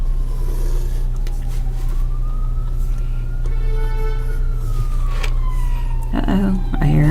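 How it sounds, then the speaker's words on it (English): A fire truck siren wails outside, its rising and falling tones sweeping loudly over a heavy low engine rumble, with a brief voice near the end. "Uh-oh, I hear a fire truck outside."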